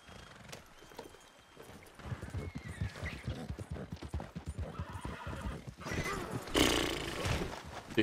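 Horse hooves clip-clop steadily in Red Dead Redemption 2, loud and close, and a sharp whinny rises near the end over the trotting.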